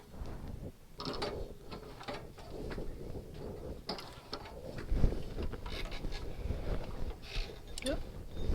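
A Cowboy CB6900 sewing machine stitches a dog collar, its needle mechanism running in short, repetitive mechanical bursts that stop and restart throughout, close and fairly loud.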